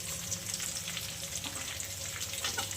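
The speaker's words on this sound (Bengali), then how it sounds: "সঙ্গে একটু রসুন বাটা ফোড়ন দেবো" Garlic paste sputtering in hot oil for tempering, a soft, even, continuous frying hiss with faint crackles, heard close and alone.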